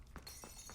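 An object smashes in the Hogwarts Legacy video game, a short glassy shattering crash with a couple of quick clinking hits over a steady background hum.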